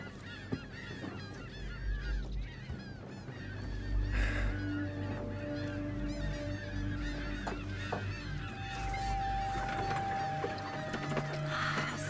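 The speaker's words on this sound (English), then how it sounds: "Seagull in the water." Seagulls call in a busy flock near water at a beach, their overlapping squawks and honks continuing steadily at close range over a constant low background.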